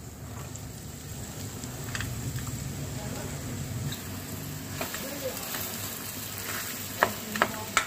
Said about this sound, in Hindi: आलूओं को मसाले में मिक्स कर देंगे